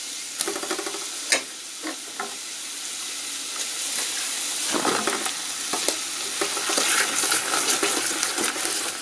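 Mushrooms dropped into a hot wok and frying, a few early clacks and taps giving way to a steady sizzle that swells louder and fuller over the rest of the stretch.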